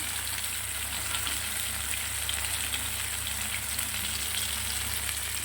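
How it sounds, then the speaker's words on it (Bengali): A whole fish fries in hot oil in a pan, a dense, continuous crackling sizzle at a steady level from start to finish, with no talk. "ঘুরিয়ে ঘুরিয়ে ভাজতে হবে"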